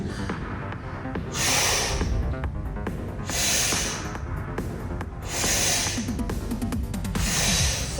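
A person doing an ab exercise exhales forcefully in four loud, hissing breaths spaced evenly over several seconds, close to the microphone, with no talking.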